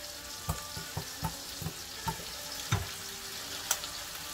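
Turkey neck adobo frying in a pan, with soy sauce being added, makes a busy sizzle punctuated by repeated sharp clatters and scrapes of a utensil against the pan, close and without talk.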